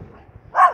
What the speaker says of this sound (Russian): А, все понятно, на какого мальчика Татоша гавкает